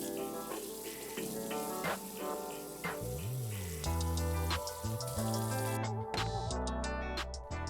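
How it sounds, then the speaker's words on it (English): Peppers for venison birria are rinsed under a running kitchen sink tap, a steady splashing stream with water drumming on the vegetables and basin, close and fairly loud, with no speech. "here at the sink, we're gonna go ahead and give these a light rinse"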